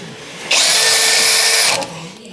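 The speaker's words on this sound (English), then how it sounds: "just try to use a wire wheel on the drill just to expose that a little bit" A drill fitted with a wire wheel spins up to a loud, high whine against rusty bolts for about a second, then winds down, with no talking.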